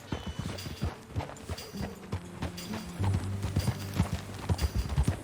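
Horse hooves clip-clopping in a steady, brisk rhythm while riding in the video game Red Dead Redemption 2, close and clear, with faint tonal game sounds beneath and no talking.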